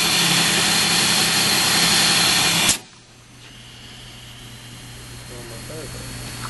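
Compressed air rushes loudly and steadily from the exhaust of a 5 ton pneumatic cable hoist, then cuts off abruptly, leaving a quieter low hum and faint background noise.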